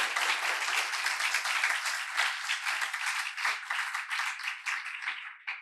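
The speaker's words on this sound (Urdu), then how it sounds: "ایڈی وڈی گل تے انیاں پسیاں تالیاں" A congregation at a Bible class claps together in a steady, fairly loud round of applause that thins out toward the end.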